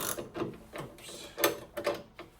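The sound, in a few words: old socket set ratchet being turned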